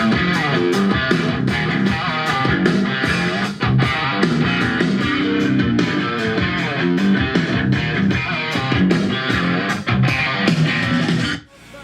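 Afro-style band recording with guitar fillers played back, a dense, continuous full-band groove with steady percussive accents that carries loudly throughout and cuts off abruptly at the end.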